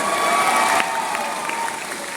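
Audience applause at a Keysoul zonal program in Guwahati, Assam: dense, even clapping that fills the room and holds at a loud level before easing slightly, with no voices on top.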